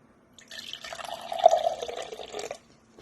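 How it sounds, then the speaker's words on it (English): Water poured into a glass as the first step of a homemade lava lamp, a brief close trickle and splash lasting about two seconds, fairly quiet and alone. "Once you get your glass, you're going to add some water to it."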